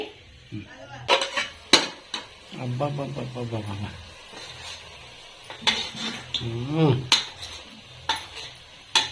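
Pot of village-style mutton gongura curry, with metallic clanks and knocks as the lid is set on, several sharp hits mixed in with a person talking.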